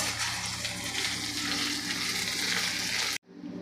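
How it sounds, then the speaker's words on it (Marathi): Chillies, spices, coconut and coriander seeds roasting dry in a pan for Marwari garlic chutney, a dense steady crackle and sizzle that cuts off abruptly near the end. "दोन ते तीन मिनटे फक्त आपल्याला हे परतून घ्यायचं आहे"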